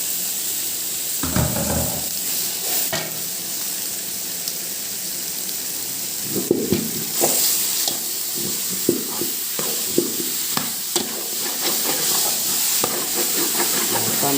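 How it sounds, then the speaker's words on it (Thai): Braised pork belly and tofu stir-fried together in a pan: a continuous hissing, steamy sizzle, with bursts of stirring and sputtering as the pieces are turned. "เอาละครับลงไปครับพร้อมเต้าหู้นะครับ ผัดพร้อมกันเลยนะครับ"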